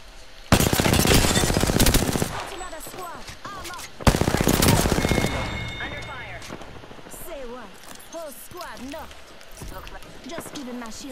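Automatic gunfire from an enemy squad in the video game Apex Legends rattles in two long, loud bursts, then thins to scattered shots while players talk over the action.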